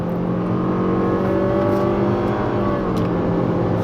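A 2018 Toyota C-HR engine revs hard at full throttle toward redline, a loud, steady, rising drone with whirring tones sustained throughout and no speech.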